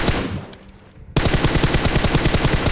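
An M4 rifle fires in a shooter video game, first in a fading burst and then, after a brief lull, in a loud rapid automatic stream of sharp cracks, with no voices.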